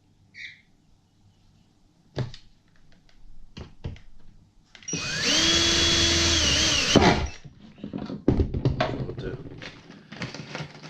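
A power drill whirs loudly for about two seconds, spinning up and biting in, surrounded by scattered knocks and handling clatter before and after.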